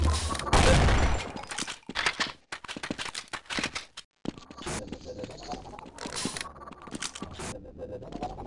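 Rapid bursts of gunfire and scattered impacts in a science-and-industry themed multiplayer shooter video game, loud and dense at first, then choppy volleys with a sweeping electronic tone.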